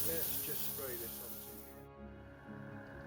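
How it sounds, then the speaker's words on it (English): Spray paint hisses onto a Warhound Titan miniature in one steady close burst that stops sharply partway through, with faint talk and background tones underneath. "So let's just spray this"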